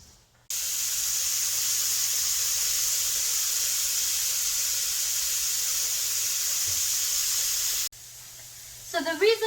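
Mushrooms and carrots frying in a hot wok on a stove give a steady loud sizzling hiss that stops sharply near the end, followed by brief speech.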